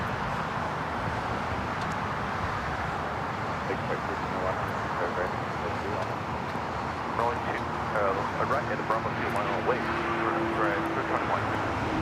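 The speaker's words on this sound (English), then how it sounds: "the Lufthansa A350 just touching down here. 25 left" A Lufthansa Airbus A350 touches down on runway 25 left at LAX, its steady jet roar and rushing air filling the scene while a person talks over it throughout.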